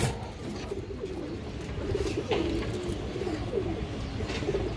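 Farm pigeons, females being held up and handled, coo in low throaty repeated calls close by, over steady background noise and faint rustling.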